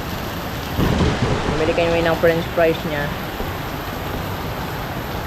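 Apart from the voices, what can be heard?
heavy rain falling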